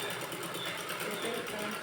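A sewing machine stitches a net fabric blouse in a fast, even run of needle strokes close by, with a voice talking over the mechanical chatter.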